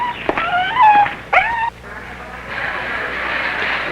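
A dog left tied outside a 1962 supermarket whimpers and yips in a few high, wavering cries close by, then falls quiet against a steady outdoor hiss.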